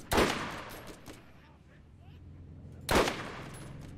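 Two loud bursts of gunfire in the Borderlands video game, separated by a few seconds of low background ambience, each a sharp crack with a short decaying tail and no talk over them.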